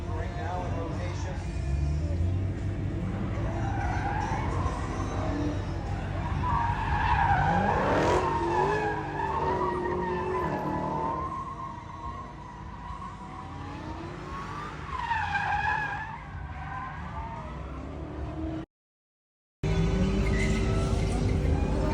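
Dodge Charger and Challenger thrill-ride cars, including a Hellcat jailbreak Charger with over 800 horsepower, skid and squeal their tires at Mecum Kissimmee 2023 over a steady roaring engine, loud and continuous with a brief cut near the end.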